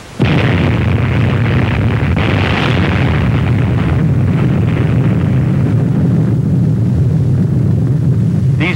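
Atomic bomb burst over a lagoon, heard on archival film as one loud, sustained roaring rumble that swells and holds for several seconds without letting up.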